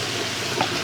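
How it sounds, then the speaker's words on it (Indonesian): Bitter melon is stir-fried in a hot pan with white pepper and a little MSG. A brief, steady, close sizzling hiss fills the moment. "Tumis."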